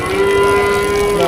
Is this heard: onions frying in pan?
no